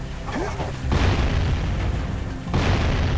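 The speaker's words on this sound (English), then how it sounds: "those explosions sounded kind of close" Explosions in the video game Jak & Daxter: The Precursor Legacy: two loud, deep booms about a second and a half apart, each followed by a dense rumbling roar, with a speaking voice at the start.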